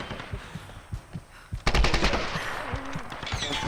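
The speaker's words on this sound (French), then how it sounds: "Oh je tire partout." Gunfire in the video game Tomb Raider: a few isolated thumping shots, then a rapid burst of automatic fire that continues loud and dense through the rest of the clip.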